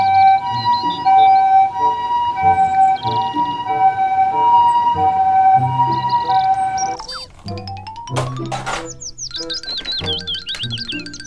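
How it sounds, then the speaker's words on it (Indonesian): Wailing ambulance siren rising and falling steadily for about seven seconds, loud and close, followed by a bright musical jingle with chimes and boing-like effects. "Mobil ambulans."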